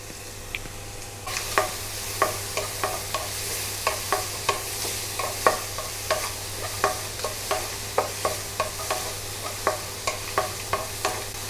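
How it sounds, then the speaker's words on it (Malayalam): Green chili, ginger and garlic paste sautéing in oil for a beef curry, a steady close sizzle under regular spatula scrapes and stirs at roughly two per second, with no talking. "അത് അരച്ചെടുത്ത് വെച്ചത് ചേർത്ത് കൊടുക്കണം. അതിൻ്റെ പച്ചമണം മാറുന്ന വരെ നന്നായിട്ട് വഴറ്റണം"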